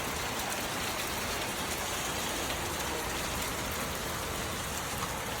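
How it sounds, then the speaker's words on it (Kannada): Sudden rain falling hard outside a house on a farm visit, a dense, even hiss of downpour that holds steady and fairly loud for the whole stretch. "ಮನೆಗೆ ಹೋಗಿದ ತಕ್ಷಣ ಸಡನ್ನಾಗಿ ಮಳೆ ಬಂತು ನೋಡಿ."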